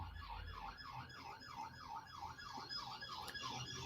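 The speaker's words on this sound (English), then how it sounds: "No, it's a police car, which is obviously going at full tilt" A police car siren wails at full speed with a regular rising-and-falling cycle, steady and moderately distant over low traffic rumble.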